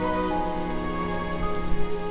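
Cold rain falls steadily in a continuous even patter, moderately loud and close, with a slight swell near the end and no voices.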